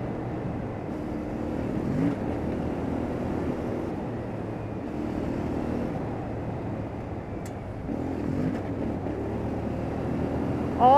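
A CFMoto 450MT motorcycle ridden on the road gives a steady, moderate engine drone mixed with wind rush, holding even throughout with slight swells in pitch, and no voices.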